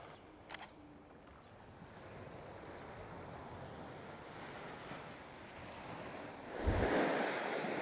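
Ocean waves wash onto a sandy Algarve beach at sunrise in a steady, broad hiss of surf. Wind rushes over the microphone, a camera shutter clicks near the start, and a stronger wave surges in close near the end.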